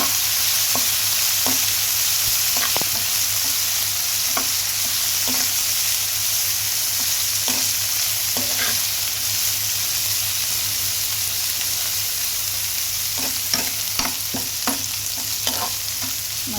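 Prawns fry in hot oil with a steady, loud sizzle throughout, broken by occasional clacks of a utensil against the pan that grow more frequent toward the end.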